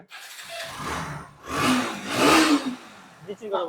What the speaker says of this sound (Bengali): দেখেন ভাই ইঞ্জিনের সাউন্ডটা দেখেন